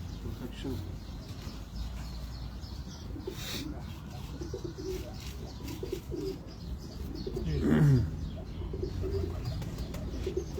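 Pigeons coo softly and repeatedly in the background, low and fairly distant, beneath ongoing conversation and faint chirps.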